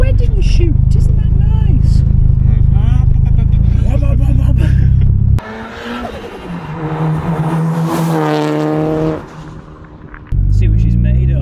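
A Toyota Celica GT-Four time attack race car engine roars and revs loudly while driving, the pitch rising and falling with acceleration, with people talking over the noise.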